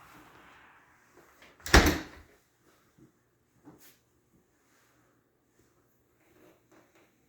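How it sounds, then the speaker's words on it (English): A house front door swings open with a single loud, close clunk and brief rattle, followed by a few faint knocks and shuffles in an otherwise quiet room. "Going in the very front door."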